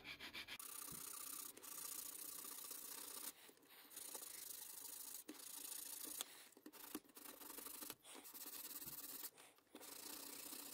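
Steady, close scratchy rasping of a sanding stick working the small surface of a bonnet and grille, in continuous strokes broken by a few brief pauses.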